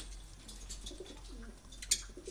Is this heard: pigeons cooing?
yes